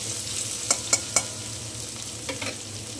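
Frying in a pan for Bengali fish curry gives a steady low sizzle, with a quick series of three sharp spatula clicks and two softer scrapes near the pan.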